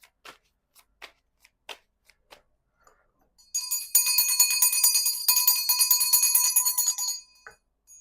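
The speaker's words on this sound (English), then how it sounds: "My mom's bell." A small handheld bell rings steadily for a few seconds during a tarot card reading, bright and close, after several soft card taps and shuffles.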